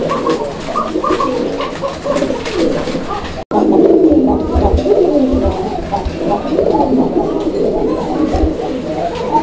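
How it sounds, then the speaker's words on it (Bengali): A pair of desi Bombai pigeons coo loudly and close by, repeated throaty rolling calls overlapping in a steady run, broken by one brief dropout, with no talking over them. "আর খুব চমৎকার ডাকে এই পেয়ারটা। আপনারা দেখতে পাচ্ছেন কবুতরের ডাক।"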